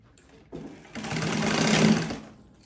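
A sewing machine stitches a waxed canvas and leather pouch in a single short run of about a second and a half, swelling and fading, close by and alone.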